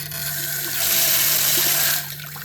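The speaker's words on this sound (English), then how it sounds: "I loved how much pressure the water had that came out of the sink" Strong, steady rush of water pouring from a high-pressure sink faucet in a rented apartment in Penang, Malaysia, a broadband hiss that swells louder midway and eases back near the end, close and without talk.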